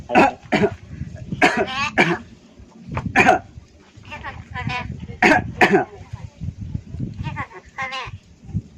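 A talking crow imitates a cough, producing repeated harsh, raspy coughing bursts in irregular clusters, close and loud, alternating with a person's voice speaking to the bird.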